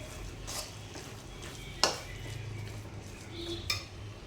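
A spoon scraping and clinking against a pot of Hyderabadi dum biryani with coconut simmering on low heat, a few sharp metallic knocks over a soft background hiss.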